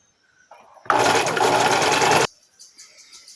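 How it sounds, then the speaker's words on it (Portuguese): A sewing machine stitches chita fabric onto a child's skirt, a loud, close burst of fast, even running that lasts just over a second amid quiet surroundings. "E é só costurar, então, todo esse tecidinho agora na saia."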